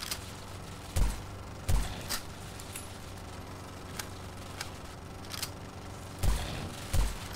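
Shotgun blasts in the video game Harvest Season during a fight with an evil combine, six or seven sharp, fairly faint reports spaced irregularly over a low background hum.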